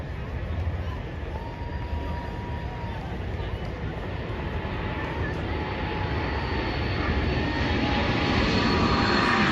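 JAS-39 Gripen fighter jet flying a choreographed spiraling display maneuver with flares firing, a continuous broad roar of jet engine noise that swells slightly louder toward the end.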